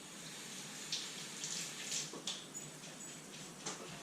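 Water runs steadily from a kitchen tap for several seconds as fingers are dampened during sourdough bread making, a constant close splashing flow with small surges.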